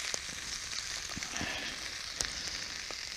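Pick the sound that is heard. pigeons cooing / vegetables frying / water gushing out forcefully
vegetables frying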